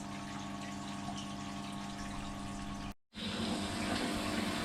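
Water runs steadily through a newly fitted filter cartridge as its pressure is tested, a continuous close rushing hiss that cuts out briefly for a moment, then resumes as strongly as before.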